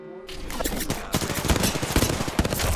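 Rapid automatic gunfire in the Apex Legends battle royale game, a loud, close stream of sharp shots in irregular bursts that continues across the whole clip with faint battle noise underneath.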